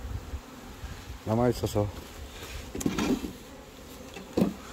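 Honeybees buzzing around a beehive in breezy outdoor conditions, a faint constant hum under wind noise while someone speaks in short bursts.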